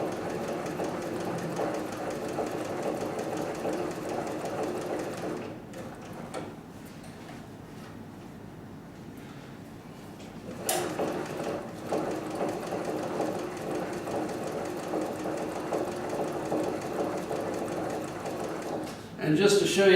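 A cylinder bed sewing machine stitches material with a steady mechanical whir and rapid ticking, pausing briefly in the middle before resuming, while a voice talks over it.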